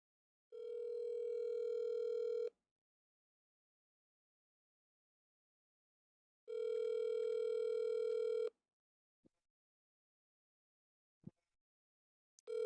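Outgoing phone call ringback tone: two long, steady buzzing rings about two seconds each, separated by silence, followed by faint clicks and the start of a third ring.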